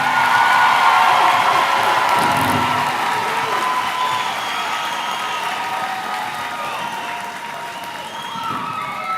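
A large graduation crowd at Southwest Edgecombe High School applauds a row of graduating students, with steady sustained clapping mixed with scattered cheers and whoops that fade slightly over time.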